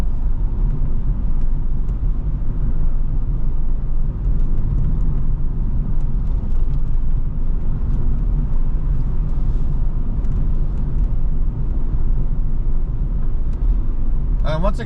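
A car is driven at night, its engine and tyres giving a steady, smooth low rumble that stays even throughout, with a faint voice now and then.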